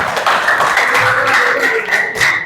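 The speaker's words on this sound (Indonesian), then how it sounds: "Kasih tepuk tangan lagi dong." An audience claps together at a teaching session, a dense, steady wash of close hand claps that lasts through the whole stretch with no pauses.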